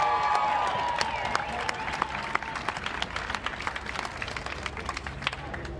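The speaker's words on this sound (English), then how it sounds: "Give it a big round of applause." Crowd at the Greek Theater in Denver during a protest gathering, applauding for a band in a broad, sustained wash of clapping that slowly thins toward the end, with faint voices mixed in.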